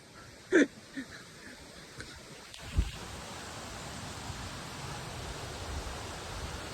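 Rushing current of Marilag Falls pours out as a steady broadband roar, joined by a few brief knocks and a short voice-like sound early on before the flowing water settles into a continuous wash.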